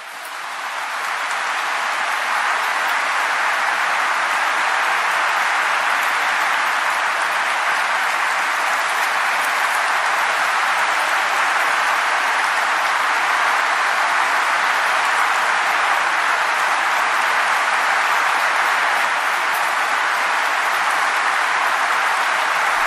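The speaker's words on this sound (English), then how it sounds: "they're standing and cheering and clapping" A large audience applauds in a sustained, dense wave of clapping that swells in the first seconds and then holds steady and loud for over twenty seconds, with no voices standing out.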